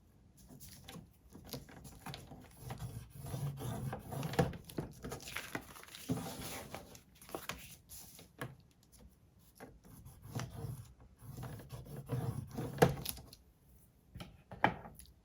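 Junk mail envelopes are scored on a score board, giving soft, close scraping and rubbing strokes that come in repeated irregular passes, faint and with no talk.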